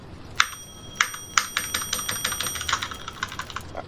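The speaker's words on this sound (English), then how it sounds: "I think I broke the bell." A bell in the Roblox game Doors is struck repeatedly: three bright, ringing dings, then a rapid flurry of quicker metallic taps, close and clear with no talk.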